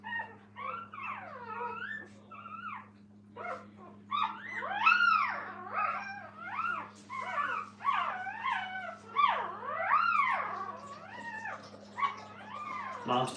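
Puppies at a kennel whimper and yelp in rising and falling whines, several overlapping, near and fairly quiet over a steady low electrical hum, continuing without pause through the whole stretch.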